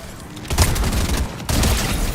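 SMG gunfire in the video game Fortnite, two dense bursts of rapid shots filling the clip, loud and close, with no talking over them.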